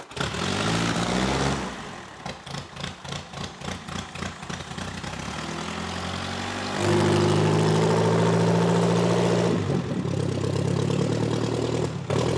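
A motorcycle engine in a garage idles with a chugging pulse, revs in rhythmic throttle blips, then holds a steady louder drone before settling, close and unaccompanied by talk.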